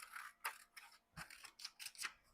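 Scissors snip through a sheet of paper used for gelli-print collage work, giving several crisp, close cutting strokes in quick, uneven rhythm with no talk.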